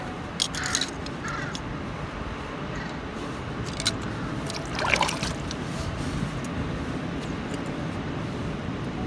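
Knife parts from a CRKT Homefront field-strip folding knife get rinsed under running water, a steady close splashing flow with a few small metallic clinks of the pieces, no voices.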